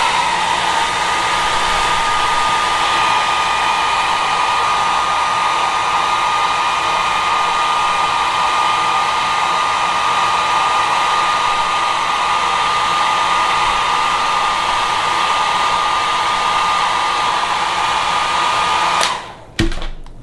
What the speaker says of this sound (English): I get my blow dryer, that rat tail comb, and start like pushing down the edges of the lace flat